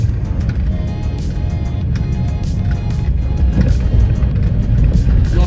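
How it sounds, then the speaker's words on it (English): BMW X5 3.0-litre diesel on a long cross-country drive, a steady low engine and road drone holding evenly throughout with no pauses. "Not a problem for the big BMW with its 3-litre diesel power plant."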